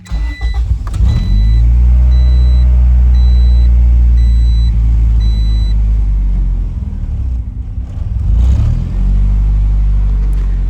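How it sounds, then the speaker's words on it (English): A 1990s Honda car engine cranks briefly, catches and settles into a loud, steady idle rumble close to the microphone, with a second surge of revving near the end. "let me show you guys what happens when we try and start the car now"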